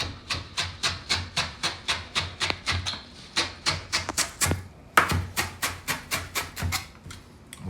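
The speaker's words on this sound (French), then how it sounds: "On va prendre du persil qu'on va hacher grossièrement." A knife chops parsley coarsely on a board, crisp evenly spaced strokes about three per second, close and clear, with a brief pause before the chopping resumes.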